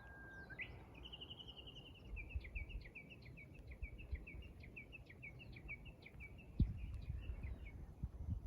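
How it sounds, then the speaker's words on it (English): A single bird sings a long, rapid series of high chirps and trills outdoors, fairly faint, over a soft background hiss and occasional rustles. "Listen to the birds."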